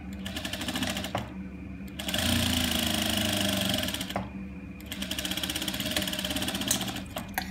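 A sewing machine stitches a ladies top in bursts: a rapid mechanical whirring run, a short pause, a longer run, another pause, then a final run, all close and moderately loud.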